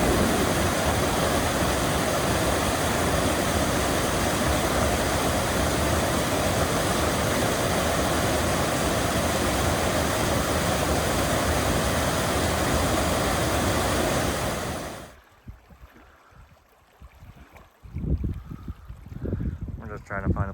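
A mountain creek on a hiking loop near Waterfalls Creek rushes as a loud, steady roar, then drops away abruptly to quieter outdoor sounds and some rustling near the end.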